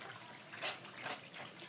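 A soft, short trickle of water being poured into a cooking pan, swelling slightly in two small bursts, with no talking.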